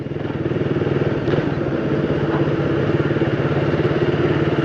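A Suzuki Raider motorcycle engine, 14 years old, runs steadily at close range, a loud continuous rhythmic putter with no voices.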